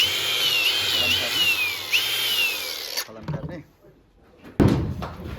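A grinder whines in a jewellery workshop, its high-pitched tone sliding up and down for about three seconds before cutting off, then a few clatters and knocks follow.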